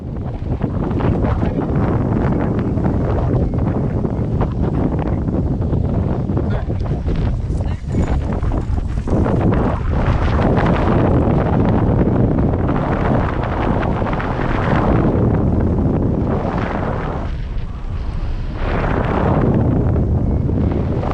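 Strong wind at a paraglider launch site in Crestline, California, roaring into the microphone as a loud, steady rush with gusty swells that continue throughout.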